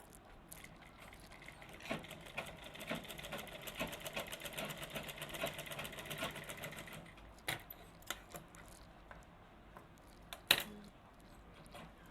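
Sewing machine stitching a lined blouse, a rapid even needle clatter running for several seconds, then stopping, followed by a few faint handling clicks and taps in a quiet room.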